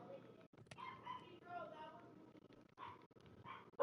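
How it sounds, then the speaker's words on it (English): A pet dog barks and whimpers indoors in short, uneven bursts, mixed with a person talking nearby. "Sorry, that was my dog."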